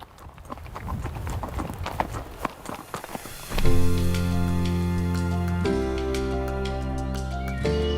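A horse carrying a rider on a village path clip-clops in quick, uneven hoofbeats for a few seconds. Then sustained tonal music takes over and the hooves fade beneath it.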